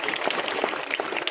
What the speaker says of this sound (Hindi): ताली बजाते रहना आपको